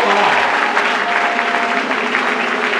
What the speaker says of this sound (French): Est-ce que nous pouvons acclamer très bien?